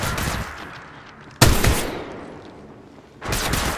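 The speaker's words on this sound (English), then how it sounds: "Shots fired at me." Bursts of gunfire in the mobile battle royale game Apex Legends Mobile: a burst at the start, a sharp loud volley midway with a fading tail, then another burst near the end.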